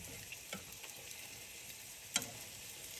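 Beijing-style dalian huoshao dumplings with egg and zucchini filling pan-fry on their sides in a skillet, giving a quiet, steady sizzle with a few small ticks and one sharp pop.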